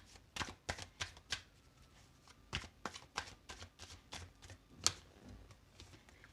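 Tarot cards are shuffled nearby, a quiet series of crisp slapping and riffling snaps arriving irregularly, with one sharper flick near the end.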